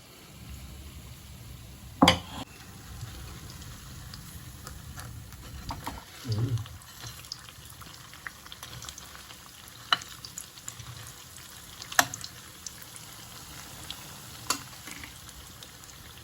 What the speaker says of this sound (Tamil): எண்ணெயில் அப்படியே போட்டுற வேண்டியது.